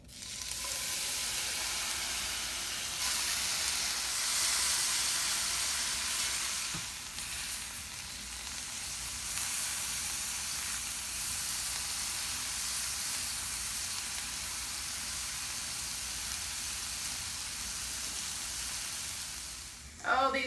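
Shrimp in a honey garlic marinade sizzle steadily in a skillet, a continuous close frying hiss that holds for about twenty seconds with a brief clatter at the very end.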